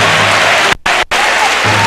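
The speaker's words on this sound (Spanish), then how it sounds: "es bonito el gesto del público aplaudiendo a Tonín" Loud, steady applause from a basketball arena crowd during a EuroLeague game between Real Madrid and CSKA Moscow, filling nearly two seconds with two brief dropouts.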